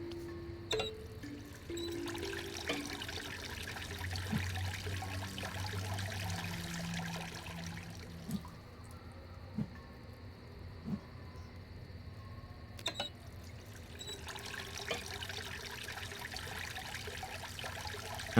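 Water trickling and pouring steadily inside the video game Myst IV: Revelation, a soft continuous stream with faint splashy detail and occasional small clicks, no voices.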